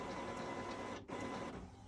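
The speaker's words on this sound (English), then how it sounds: "I can hear the print head moving back and forth, getting in position" An Epson WF7720 inkjet printer's print head shuttles back and forth, a steady mechanical whir with a brief dip where the carriage reverses direction, heard close up in a quiet basement with no talking.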